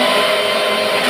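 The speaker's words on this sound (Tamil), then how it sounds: "மிக்ஸி ஜாரில் போட்டேன் பார்த்தீங்களா?" A mixer grinder whirs steadily at close range while grinding pepper, cumin, onion and tomato for Chettinad fish kulambu, a loud continuous motor drone with no talk over it.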